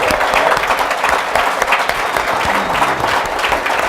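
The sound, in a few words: audience applause at a live event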